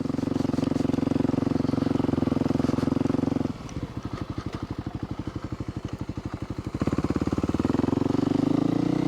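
Kawasaki KLX 300 dirt bike with an FMF Q4 exhaust rolling slowly past in woods, a loud engine that drops to a throbbing low idle-like putter midway and then swells again as it passes.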